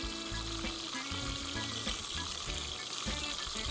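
Beef (lagarto cut) frying in a pan, a steady dense sizzle running throughout with bursts of crackle, loud and close with no talking.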